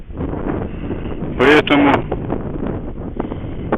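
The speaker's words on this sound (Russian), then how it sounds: "поднялся сильный ветер" Strong wind buffets a microphone beside the Karabulak river in Pavlodar region, on a bicycle trip. It comes as rough, gusty rumbling with a sharp louder burst midway, heard beneath someone speaking.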